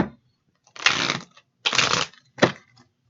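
Three quick bursts of tarot cards being shuffled, each a brisk riffling flutter separated by short pauses, close and clear with no voices.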